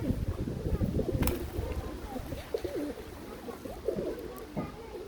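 Pigeons coo softly in a low, repeated rhythm at close range, with someone talking over them and some background noise.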